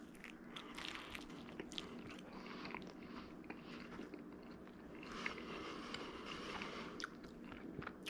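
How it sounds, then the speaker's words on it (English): Biting into a pizza crust baked in an Ooni Koda 16 oven, a dense crackling crunch heard close up, with chewing continuing throughout and brief sharper crunches. "let's get a bite into this crust"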